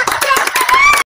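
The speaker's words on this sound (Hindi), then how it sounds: "फिर से ताली बजाओ एक बार।" Hands clap briefly at a lively Bhojpuri music gathering, a loud close burst of clapping mixed with voices that cuts off abruptly after about a second.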